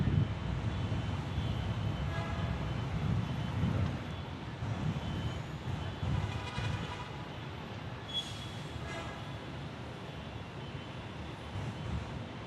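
A Spirit Airlines airliner at Orlando International Airport gives a steady, moderately loud engine roar and broad rumble that holds through the whole stretch and eases slightly toward the end, with no voices.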